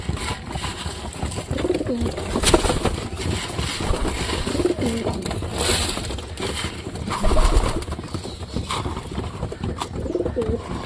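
Pigeons coo steadily in soft, repeated throaty calls, several birds overlapping close by against a busy, rustling background.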